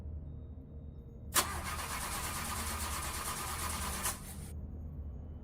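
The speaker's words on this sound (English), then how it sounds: "The wolf gets back inside the car and tries to start it." A car's starter cranking on a rainy night but the engine never catching, a steady whirring grind of about three seconds that starts abruptly and cuts off, close and moderately loud over a low background rumble.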